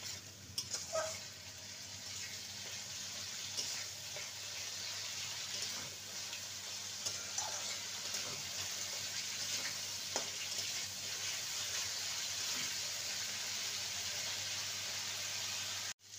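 Cubed capsicum sautéing with spice masala in a hot pan: a soft, continuous sizzle and hiss of frying that runs unbroken for about sixteen seconds, with occasional faint clinks and stirring sounds and no talking.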